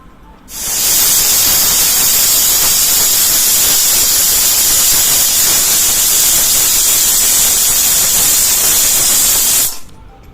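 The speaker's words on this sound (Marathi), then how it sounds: "कुकरचं झाकण लावून आपल्याला याच्या तीन सिट्ट्या काढून घ्यायच्या आहेत" A loud, continuous hiss of steam blasting from a pressure cooker cooking rasam rice starts abruptly, holds steady for around nine seconds, then cuts off.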